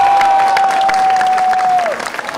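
Studio audience clapping on a Pakistani talk show as a guest is welcomed, loud steady applause under a sustained whistle-like tone that drops away near the end, leaving thinner scattered claps.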